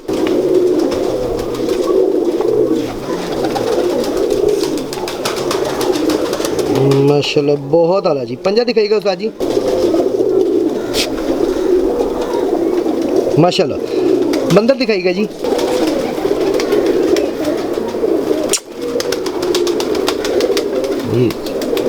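Breeder pigeons coo in a low, continuous murmur beneath men chatting throughout, the soft rolling calls steady and close with brief handling noises in between.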